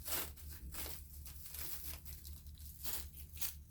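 Plastic compression wrap crinkling and tearing as it is wound around a person's legs, a faint series of irregular rustling bursts over a low steady hum.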